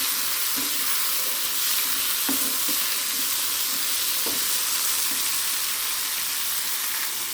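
Cucumber pieces frying in a pan for a Rayalaseema-style cucumber fry give a dense, continuous loud sizzle, with a few faint stirring knocks beneath it and no speech.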